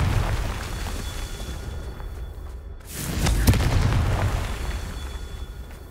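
A Confringo blast spell cast in the video game Hogwarts Legacy: a single booming burst erupts midway after a brief hush, then rumbles and settles back into steady in-game ambience.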